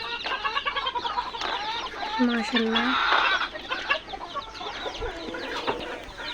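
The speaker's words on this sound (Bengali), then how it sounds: "আজকে দেখুন মুরগিগুলো ডিম পারছে।" Several laying hens cluck and cackle repeatedly at close range in a small backyard flock, with a voice briefly speaking over them.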